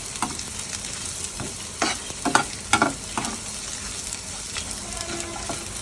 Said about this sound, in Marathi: कांदा भाजत आला आहे चांगला.